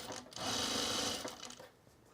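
A sewing machine stitches fabric for summer pants in one loud, close whirring burst of about a second, then slows and stops, with no voices.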